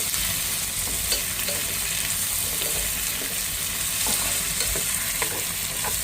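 Food sautés in a pan during home cooking, giving a steady, even sizzle. Soft stirring scrapes recur now and then underneath, with no talking.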